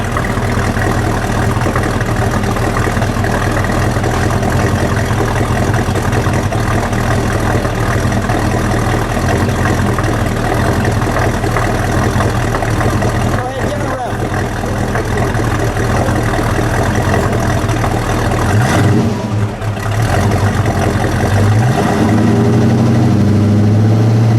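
A 1970 Ford Torino GT convertible with a 429 SCJ V8 idles with a loud, steady, deep rumble that runs unbroken throughout, with a slight shift in tone near the end.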